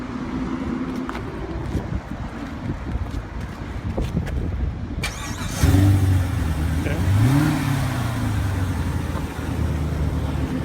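A Dodge SRT Hellcat sits under wind buffeting on the microphone until its engine kicks in loudly midway, then revs up in a rising surge and settles into a deep, steady idle-like rumble.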